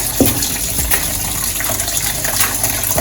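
Water gushes steadily from a kitchen tap, a continuous broadband rush filling a container while Jamaican plantain and yam pudding is prepared, with a few soft clunks of handling over the flow.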